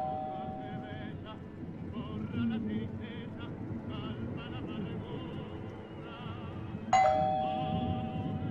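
A doorbell in the video game 12 Minutes gives one short, bright chime near the end, rising over an ongoing murmur of voices and a low background hum.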